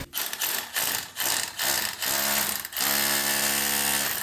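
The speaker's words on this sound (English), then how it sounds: "We're going to take our battery powered hammer drill." Battery-powered hammer drill chipping into a quartz vein at a gold mine, with rapid hammering bursts starting and stopping in short pulses, then a sustained buzzing run at the end, close and loud.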